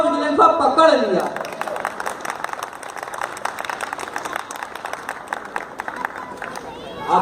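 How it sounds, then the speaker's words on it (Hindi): Loud audience applause and clapping at a live Hindi comic poetry recital, a dense broadband patter that follows a speaker's voice at the start and keeps going for several seconds before a brief voice returns at the end. "आपकी तालियों की गड़गड़ाहट ही मेरी असली मेहनताना है"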